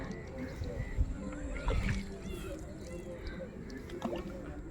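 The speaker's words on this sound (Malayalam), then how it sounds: "അതാണ് ഒരു ബോട്ട് റൈഡ് കിട്ടി" A small boat glides across a backwater lake during an Onam outing with office friends, with faint water sloshing and creaking from the hull under quiet background chatter and movement, heard at low level.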